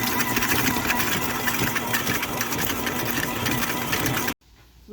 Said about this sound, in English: We're gonna mix it with our stand mixer until completely combined